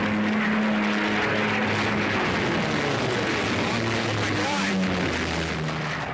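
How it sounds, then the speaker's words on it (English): A vintage World War II plane crashing in front of the stands at the Reno air races, heard as a loud, continuous engine roar and rumbling wash with wavering droning tones throughout. "Watch as you can see the vintage World War II plane just crash right in front of the stands there."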